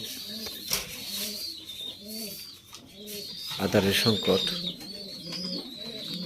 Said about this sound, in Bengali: তিরিশ পেয়ার এই রেসার কবুতর লালন পালন করে আছি